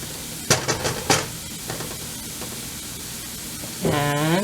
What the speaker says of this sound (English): we're going to cook those onions for a couple minutes until they start to get translucent